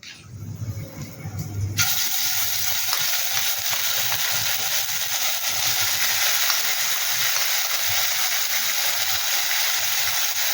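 Shrimp paste ground with ginger, chili and melon seeds drops into hot oil in a pan and bursts into a loud, steady sizzle that holds evenly close to the pan, after a short quieter stirring moment at the start.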